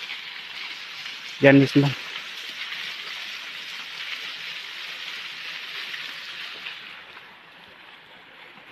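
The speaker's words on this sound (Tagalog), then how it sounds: "Tapos yung bagsakan ng tubig." A waterfall roars as a steady hiss of falling water that stays constant throughout, with someone briefly speaking over it near the start.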